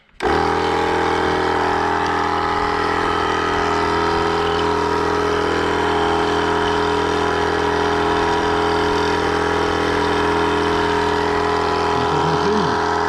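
A John Deere tractor's engine starts and then runs continuously at a steady idle, a loud, close mechanical drone with a constant hum and no change in pace, and a voice is faintly heard near the end.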